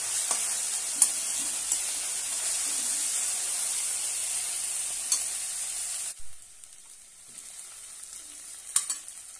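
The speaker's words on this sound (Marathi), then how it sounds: "आता यामध्ये 1 टोमॅटो बारीक असा कट करून घेतलेला आहे तो घालूया आणि छानपैकी तेलामध्ये परतून घेऊया" Finely chopped tomato fries in oil with a continuous bright sizzle and occasional stirring clicks. Near the end the sizzle suddenly drops to quiet, leaving faint scraping and a couple of utensil taps.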